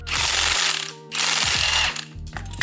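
Ratchet wrench cranking on the coilover bolts of an S197 Ford Mustang 5.0 drift car, two fast bursts of loud clicking separated by short pauses, close by.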